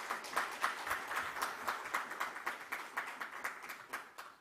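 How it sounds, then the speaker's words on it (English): Clapping from an audience at a Dubai internet conference, quiet and distant, with a handful of distinct claps standing out against a softer wash of applause. "Can we have a big round of applause"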